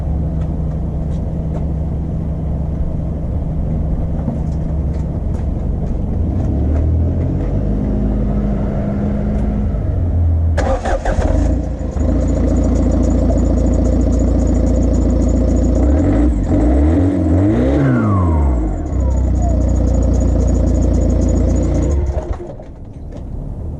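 A Ford Transit Connect camper van with a newly fitted exhaust runs nearby, a steady low engine rumble that shifts partway through as revs rise and fall, then settles back to idle; no talking.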